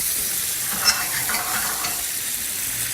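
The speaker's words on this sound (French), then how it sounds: "On termine la cuisson avec notre jus d'orange." A pan sizzles steadily as cooking is finished with orange juice in a restaurant kitchen, a close, continuous frying hiss with a brief louder spike early on and no talk.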